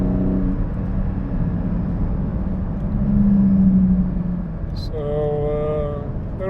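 A Porsche GT4 with a PDK automatic gearbox cruises on a public road, its engine producing a smooth, steady low rumble with road and wind noise. The drone swells slightly midway, and a voice briefly sounds near the end.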